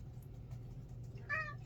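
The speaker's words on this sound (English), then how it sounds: "It wouldn't be a painting video without Hammy talking about the cats" A pet cat gives a single short meow near the end, fairly close, over a steady low room hum while a watercolor landscape is being painted.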